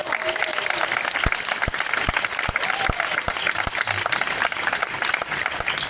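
An audience at a foundation's festival proclamation in Torredembarra breaks into dense, sustained applause, with steady clapping and a few sharper claps close by, and faint voices mixed in.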